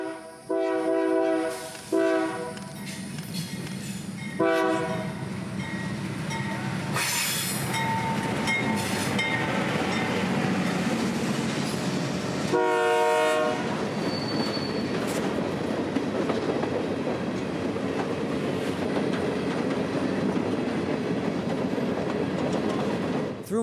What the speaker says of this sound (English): trains like B311 roll by at track speed